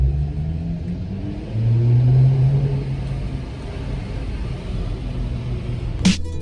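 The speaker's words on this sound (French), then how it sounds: "on entend un petit peu quand même le bruit, plutôt la sonorité, la sonorité de ce 6 cylindres en ligne" Mercedes CLS 53 AMG inline six-cylinder engine in an underground car park, a steady low rumble that swells briefly as it revs, then settles, with a sharp click near the end.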